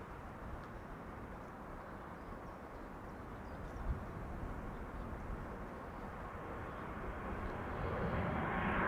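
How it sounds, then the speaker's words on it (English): An Air France Bombardier C-Series 300 (A220) departing Amsterdam Schiphol for Paris, a steady broad jet roar in moderate wind that holds for several seconds and swells louder toward the end. "Air France flight 1445 going to Paris. Bombardier C-Series 300 aka A220."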